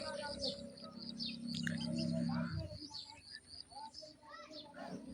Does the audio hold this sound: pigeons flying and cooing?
yes